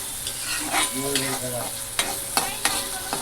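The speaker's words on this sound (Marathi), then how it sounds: "कढईमध्ये तेल गरम करून एक दोन मिडियम आकाराचे कांदे आपण भाजून व्यवस्थित परतवून घेऊया" Medium onions fry in hot oil in a kadhai-style wok, a steady close sizzle broken by several sharp spatula scrapes and knocks as they are stirred, with no voices.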